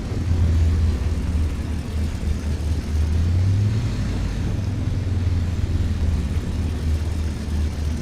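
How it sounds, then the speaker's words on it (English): Aircraft engines run up in the flight simulator IL-2 Cliffs of Dover, a low, heavy rumbling drone that swells and rises in pitch briefly before settling back to a steady roar, with no speech. "Run these engines up just a little bit."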